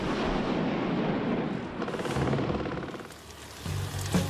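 Live artillery fire on a Swiss army tank and artillery training range in the mountains rumbles as heavy, drawn-out booms that roll and echo from far off, rising and fading across the stretch.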